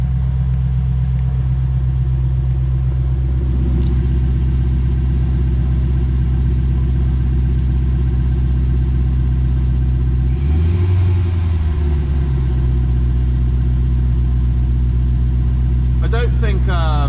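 A Lexus RC-F with a custom stainless PowerFlow valvetronic exhaust idles with its valves closed, giving a steady, muffled low rumble. A brief rev swells in the middle, and a voice speaks near the start.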